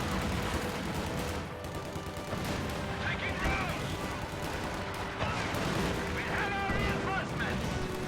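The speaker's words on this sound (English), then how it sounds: "Light artillery barrage ready to launch." Light artillery barrage in a video game, distant booms and rumbling impacts under steady commentary talk, with a dense battle wash running the whole time.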